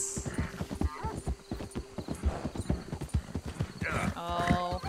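Horse hooves clip-clop steadily in a video game, close and fairly loud, with a brief whinny near the end, all mixed under near-continuous talk.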